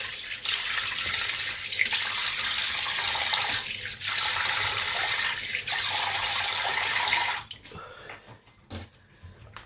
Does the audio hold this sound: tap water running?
yes